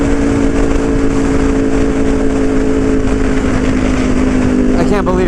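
A Ducati Panigale V2 motorcycle fitted with a Vandemon full exhaust and dB killers drones loudly and steadily at close range throughout, with a brief shift near the end.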